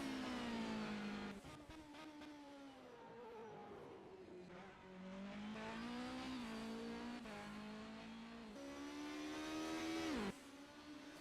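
A GTE race car in rFactor 2 at Magny-Cours, its engine note climbing and dropping through gear changes with long sustained revs, steady and close throughout, with a brief tire squeal and no talking.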